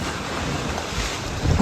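Ocean waves and wind wash past in a constant, rough rush with a heavier surge at the very end, loud and close, with no speech.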